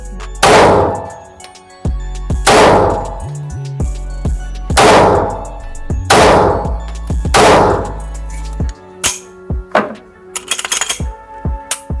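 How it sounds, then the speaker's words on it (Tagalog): Five loud, sharp 9mm shots from an RPX9 pistol ring out at roughly two-second intervals, each with a booming decay, followed by a few lighter clanks and metallic handling sounds. "I will load 5 bullets. And I will shoot with 5 bullets."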